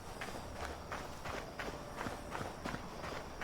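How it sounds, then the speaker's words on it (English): Rhythmic footsteps of a character walking in creative mode in the video game Hytale, a steady run of crunchy, evenly spaced steps under a light ambient bed, heard alone at moderate loudness. "I like the footstep patterns."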